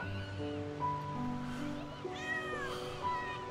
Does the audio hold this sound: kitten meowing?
yes